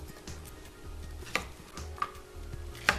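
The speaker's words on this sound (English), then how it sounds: "Onions are easy to slice." A knife slices through an onion on a cutting board, with a few soft, scattered cuts and low kitchen background noise, and one or two brighter knocks against the board.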